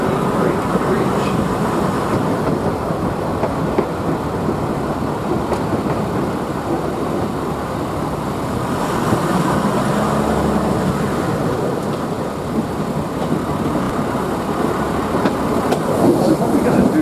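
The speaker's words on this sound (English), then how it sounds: "We're going to go across the bridge on the train" The Savannahlander train rolls along the rails near Stoney Creek Bridge, giving a loud, steady rumble and rattle of carriages on the track that continues throughout.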